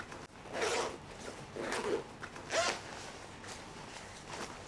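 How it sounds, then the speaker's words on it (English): The internal zip of a Macna Impala women's motorcycle jacket lining being undone, giving several close, crisp zipping strokes in bursts with short pauses between them. "So that's completely unzipped the inside"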